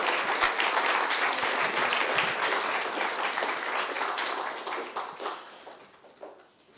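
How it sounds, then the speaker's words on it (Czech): An audience at a public talk on art and historical memory applauds a departing colleague, with dense, steady clapping that thins out and fades over the last couple of seconds. "poprosím o potlesk pro ní"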